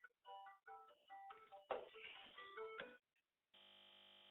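A second cell phone rings with a bright melodic ringtone, a tinkling run of notes that repeats and swells for a few seconds. A short pause follows, then a steady electronic tone sounds alone.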